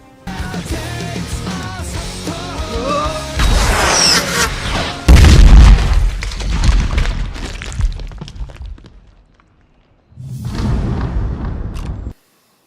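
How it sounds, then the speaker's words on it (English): Loud explosion from a bazooka blast in a Punisher film, a heavy low boom with crashing debris amid a busy action soundtrack, followed by a pause and another rumbling burst. "the Punisher blows up a Jamaican parkour enthusiast with a bazooka"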